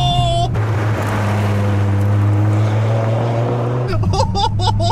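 A Dodge Viper GTS engine pulls hard in first gear, a loud sustained droning roar held close for several seconds before the pitch breaks and shifts near the end.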